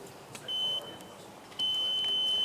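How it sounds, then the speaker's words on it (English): Electronic beeping in a room during a talk, two steady high-pitched tones, a short one and then a longer sustained one, fairly loud over faint background noise. "with regard to the beeping"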